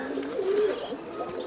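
A pigeon collected from Oman and fitted with a numbered leg tag gives a soft, low coo, fairly quiet and close, with faint background noise.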